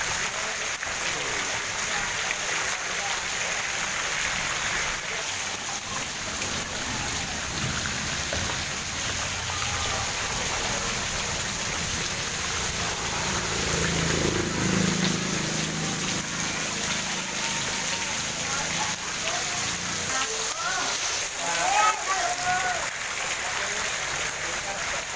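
Heavy rain pouring onto a road flooded with standing water, a steady wash of water hiss throughout with a low swell midway, and voices talking faintly underneath.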